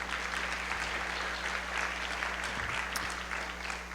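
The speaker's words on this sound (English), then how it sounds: "Let's give that a big round of applause" Sustained applause from an audience at a school district State of the District address, steady and dense for the whole stretch with a faint low hum underneath.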